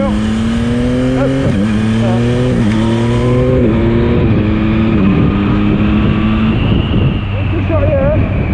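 A 2022 Yamaha MT-09 motorcycle accelerating hard, engine pitch climbing in rising sweeps broken by quick quickshifter upshifts, then settling into a steady cruise; loud and close, with wind rush throughout.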